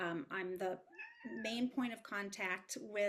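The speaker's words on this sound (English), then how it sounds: "if you hear the plaintive meows, that is my cat." A pet cat gives a plaintive meow in a brief gap, clear and close, while someone talks steadily before and after it.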